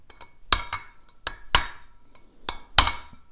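A hammer tapping on a Pharos manual coffee grinder to correct a burr rubbing on one side: a series of sharp metallic clinks, about six to eight close, bright strikes in an uneven rhythm, with no talking.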